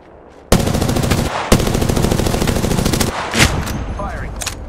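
Rapid bursts of automatic gunfire in a video game, loud and close, with a short pause between two long strings of shots and then scattered shots and game effects.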